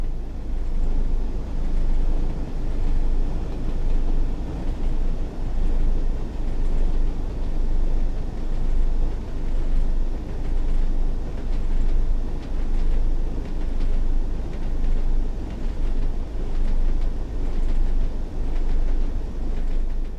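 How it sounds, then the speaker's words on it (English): Steady low diesel engine drone from a Class 101 diesel mechanical multiple unit with geared transmission in Train Sim World, a rumbling, rhythmic throb, continuous and fairly loud, with no speech. "This Class 101 diesel mechanical multiple unit features a geared transmission"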